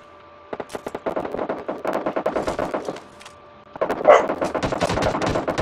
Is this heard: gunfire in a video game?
yes